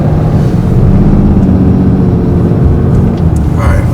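Diesel truck engine with the exhaust brake set to auto, pulling an RV on a mountain highway: a loud, steady low drone with rumbling exhaust, continuous and close, with a faint higher whine near the end.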